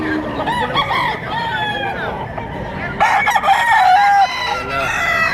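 Roosters crowing at a gamecock market in Padre Garcia, Batangas, several birds calling over one another with overlapping crows and clucks, a busy chorus that swells louder midway.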